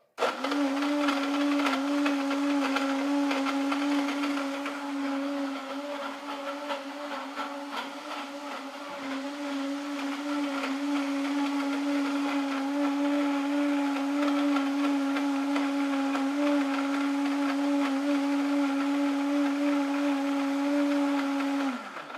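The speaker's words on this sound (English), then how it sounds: "And then drop it into your blender and press go." A blender making a banana breakfast shake runs steadily for about twenty seconds, a loud, even motor whir with a brief dip partway through, then winding down at the end.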